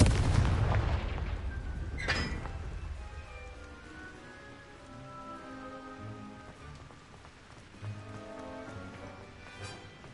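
A Confringo blasting spell goes off in Hogwarts Legacy as a loud, close burst followed by a short sharp crack, then fading into a long, low rumbling tail laced with tonal ringing.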